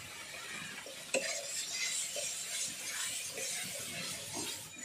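Ground spices and cumin fry with tomato paste in a pan while being stirred, giving a soft, steady sizzle with occasional spoon scrapes and one sharp clink, faint and close with no talk.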